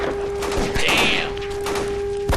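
Gunfire in the video game L.A. Noire Remastered rings out during a tense in-game standoff, a loud shot over a steady hum and game noise, with voices from the game shouting around it.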